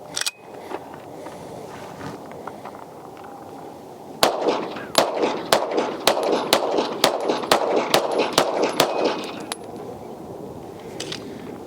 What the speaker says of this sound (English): Shoot the original Hudson 9 now.